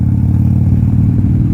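Engine of a 1987 Harley-Davidson FXRC motorcycle while riding, a steady, loud low rumble with a dense pulsing throb and no break, close up.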